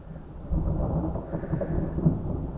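A deep, sustained rumble of thunder rolls on for a few seconds, low and heavy, with a soft wash of rain underneath.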